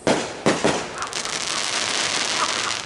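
Fourth of July fireworks burst in a rapid, continuous barrage of loud crackling explosions, with sharp booms early on and dense popping that carries through without pause.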